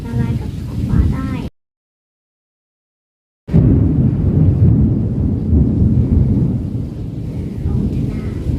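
Thunder rolls during a thunderstorm with rain: a loud, deep rumble over rain noise, briefly cut to total silence, then returning as a sustained, heavy roar.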